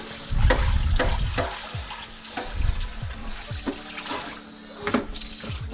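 Running water splashes steadily into a carbon steel wok as it is rinsed and scrubbed, with close, irregular sloshing and light scraping knocks throughout.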